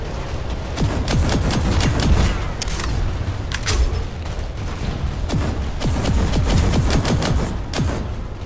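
Sustained Planetside 2 firefight: loud machine-gun bursts and scattered gunshots crackle without pause, with occasional heavier booms mixed into the close, busy barrage.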